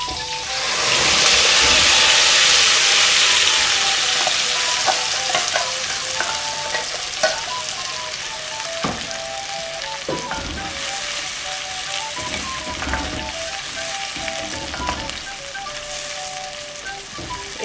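Spice paste for sarson ka saag frying in a pan, a loud hiss that bursts up as it hits the oil, then a steady crackling sizzle with repeated stirring scrapes and clinks, no talking.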